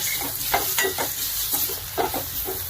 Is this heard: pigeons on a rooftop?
no